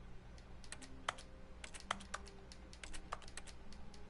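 Keyboard typing in the video game The Stanley Parable, a quick irregular run of crisp key clicks, fairly faint and close, with no voices.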